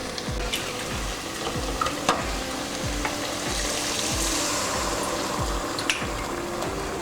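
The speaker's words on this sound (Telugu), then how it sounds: "ఇప్పుడు వాటర్ పోసుకుందాం." A frying prawn, drumstick and egg curry sizzles loudly and close while being stirred with steady scraping strokes, and a splash of water being poured into the pan blends into the hiss. No voices.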